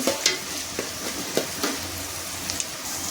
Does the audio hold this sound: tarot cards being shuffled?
no